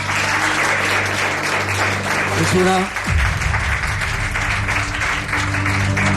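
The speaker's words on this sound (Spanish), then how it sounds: "Nos pide un aplauso para él." A television studio audience applauds a guest with steady, dense clapping throughout, loud and close, while someone speaks briefly over it.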